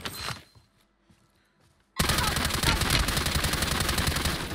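Sustained automatic gunfire in Warzone erupts after a quiet stretch, a loud, continuous stream of rapid shots running without pause to the end.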